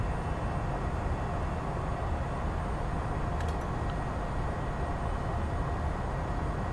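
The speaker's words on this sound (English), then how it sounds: "one noisy goddamn fucking Embraer bastard" Steady broadband roar of an Embraer E190 (ERJ-190) airliner's engines in KLM livery, climbing out of Amsterdam in Microsoft Flight Simulator 2020, continuous and loud with a brief faint chime partway through.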